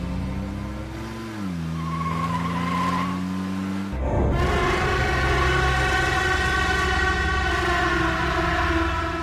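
A car engine starts and pulls away quickly, a steady loud motor drone with rising tones, preceded by a brief lower hum that drops off before the surge at about four seconds.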